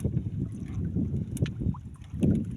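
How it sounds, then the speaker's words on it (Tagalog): Steady low wind rumble buffets the microphone outdoors on the water while fishing, with faint lapping and small knocks. "Malakas na yung hangin oh."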